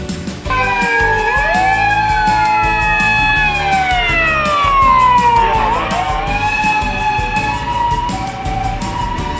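A loud, close siren from a Nissan NV400 EV ambulance wailing continuously, its pitch sweeping up and down, with a vehicle engine rumbling underneath.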